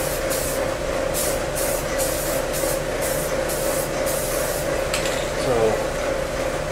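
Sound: spray painting car motor compartment and wheel wells

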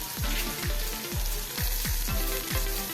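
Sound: onion frying in a pan

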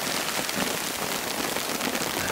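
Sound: storm with rain and hail while camping

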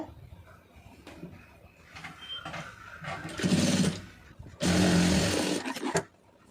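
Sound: sewing machine stitching fabric pieces together

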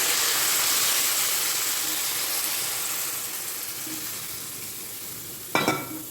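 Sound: water added to fried potato and pumpkin, sizzling

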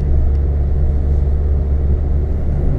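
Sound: car engine climbing uphill in fifth gear

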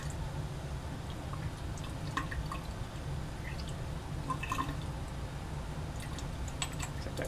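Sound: water running into a sink

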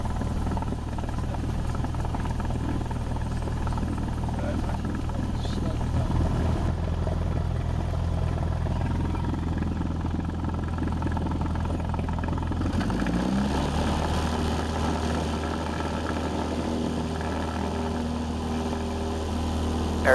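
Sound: Cessna airplane engine during takeoff roll

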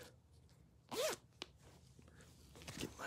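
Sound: zipper being zipped

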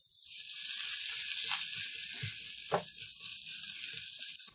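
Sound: roasting green chillies, cumin and spices in a pan

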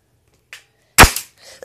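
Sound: toy shotgun being fired

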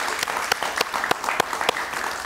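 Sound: studio audience applause

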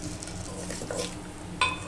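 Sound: mustard seeds spluttering in hot oil

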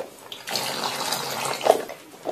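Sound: water being pumped into a pot

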